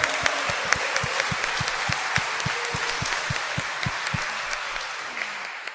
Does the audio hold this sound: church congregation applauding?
yes